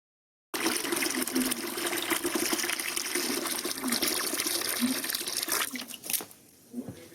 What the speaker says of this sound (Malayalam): ഇതുപോലെ നേർപ്പിച്ചിട്ട് നമുക്ക് ഒഴിച്ചു കൊടുക്കാം.